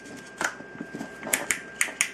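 Torque adjuster collar on a cordless drill being turned, a series of sharp, light ratcheting clicks spaced irregularly, close and fairly quiet.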